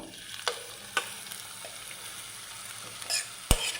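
Banana flower hits hot coconut oil with a loud crackling sizzle, followed by scraping stirs and sharp clinks of a spoon against the pan.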